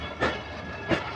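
Pakistan Railways locomotive 8222 running light to its loco point, a steady low rumble with two rhythmic wheel clacks over rail joints, heard at moderate distance.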